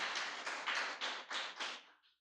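A church congregation at a Wednesday evening service claps in praise to the Lord, five or six soft swelling waves of applause that fade out quietly.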